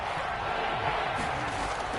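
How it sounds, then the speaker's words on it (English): Steady crowd roar in a football video game, a stadium's dense wall of cheering noise holding level throughout the moment before a big third down, with no distinct bursts. "the crowd getting into it as we come up on a big 3rd down"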